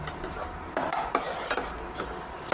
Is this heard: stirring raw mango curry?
yes